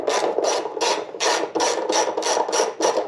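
A regular 8mm socket removes a panel bolt on a Yamaha Ténéré 700 motorcycle, making a close, rhythmic ratcheting rasp in about nine even strokes with no talk.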